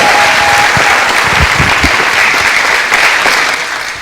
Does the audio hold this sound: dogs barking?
no